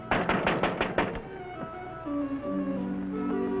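A man raps on a door in a steady series of about six firm, close knocks, then the knocking stops and sustained musical tones take over.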